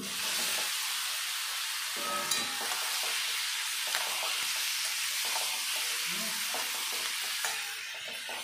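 Fried potatoes and eggs hit onion-tomato masala in a hot pan, raising a loud, steady sizzle with faint stirring scrapes throughout.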